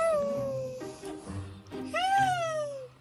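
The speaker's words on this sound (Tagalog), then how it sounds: "Pero yan ay tunog pala ng pusa." A Persian cat whose vocalizations sound uncannily like a voice, giving two long, wavering, whiny cries with a shorter broken call between them, close and fairly loud over a low background hum.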